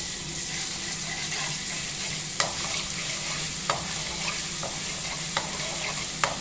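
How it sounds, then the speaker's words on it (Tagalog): Garlic sautés in hot oil in a pan, making a continuous close crackling sizzle with occasional sharp clicks from stirring utensils. No voices are heard. "igisa lang natin ang ating bawang"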